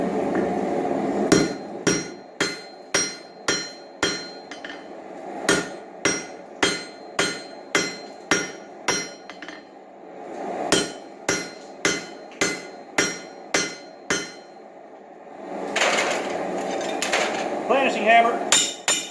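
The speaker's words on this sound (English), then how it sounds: "Planishing hammer." A planishing hammer forges railroad spikes into square stock, hitting in quick, even runs of loud metallic blows. Short pauses separate the runs, and a rougher, noisier stretch of working comes near the end.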